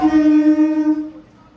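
A loud, sustained train horn blares nearby at Barasat Junction station for about a second, then fades out.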